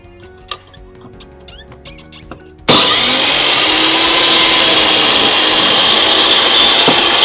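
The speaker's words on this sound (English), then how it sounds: "I will go to our power tool again." A loud power tool starts abruptly and runs continuously, cutting a 1x3 piece of tropical wood for a simple bench, after a few seconds of quiet clicks and handling noises.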